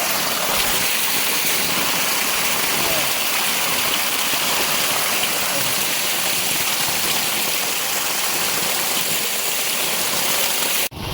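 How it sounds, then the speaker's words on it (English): Natural water flows out of the ground in a constant, loud rushing hiss like a stream, steady from start to finish and cutting off abruptly at the very end. "Natural water, guys, coming from the grounds."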